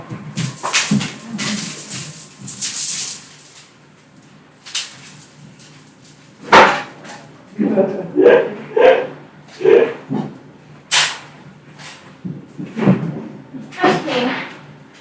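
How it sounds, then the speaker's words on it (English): A dog barks at utility workers outside a home, several sharp barks in irregular bursts, fairly close, mixed with people talking and a door or cupboard thud. "my dog barking at the utility people"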